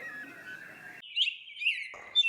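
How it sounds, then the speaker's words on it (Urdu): Small birds such as sparrows chirp in a few brief, bright bursts, fairly close, alone without any voices, after a short stretch of steady tonal background. "چڑیوں کی چہکار"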